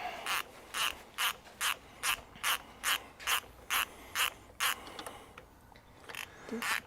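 A ratchet and socket work a bolt on a 1957 BMW Isetta, giving about a dozen evenly spaced bursts of quick clicking, close and quiet, before the clicking stops and leaves faint background noise.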